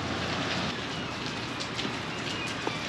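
Steady rain falls on a farm during a harvest day, a dense, even hiss of drops with occasional louder patters, fairly close and with no voices.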